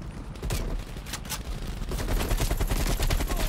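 Gunfire in the video game Black Ops Cold War, including an RPD and a Tommy gun. Rapid, dense bursts of automatic fire roll on continuously, with repeated shots growing heavier toward the end.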